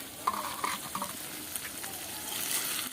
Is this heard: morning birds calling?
no